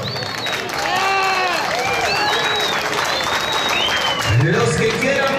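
A crowd at a rodeo bull tournament on a ranch claps and cheers at moderate volume, a steady wash of applause beneath a loud announcer's voice and background music.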